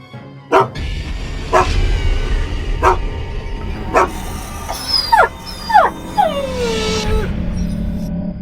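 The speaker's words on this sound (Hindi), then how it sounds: "तभी झाड़ियों में से एक कुत्ता बाहर आता है।" An injured dog emerging from bushes barks four times at spaced intervals, then gives several high, sliding whimpering yelps, fairly close against a low rumbling background.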